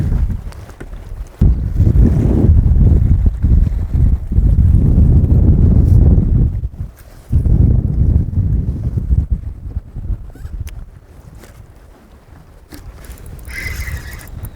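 A fishing boat's outboard motor drones loudly as it runs across a lake, buffeted by heavy wind noise that gusts and drops out briefly, with the engine fading toward the end.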